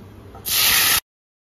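Boiled lentil dal poured into hot tempering in a pan sets off a sudden, loud burst of hissing sizzle. It lasts about half a second, then cuts off abruptly into silence.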